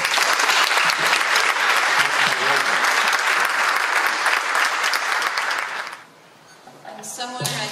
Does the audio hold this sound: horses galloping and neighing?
no